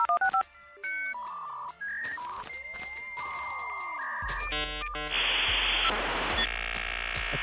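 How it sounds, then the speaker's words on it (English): A dial-up internet modem connects: dialing tones and a sweeping chirp give way to harsh screeching handshake noise and a loud, steady hiss, all close and with no talking. "I thought I heard the dial-up sound."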